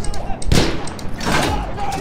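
An explosion in the Battlefield 1 video game, a sudden loud broadband blast followed by a second rumbling burst amid ongoing battle noise.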